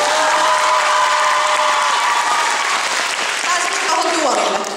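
Convention audience at a cosplay dating show applauds loudly and steadily, a dense wash of clapping with some cheering and voices mixed in, fading slightly at the very end.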